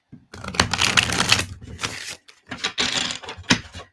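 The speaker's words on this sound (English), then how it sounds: "I'm so glad you guys like the shuffling sounds as I shuffle and shuffle and shuffle." Papery tarot cards shuffling in repeated bursts of crisp riffling and tapping, close and fairly loud, with brief pauses between rounds.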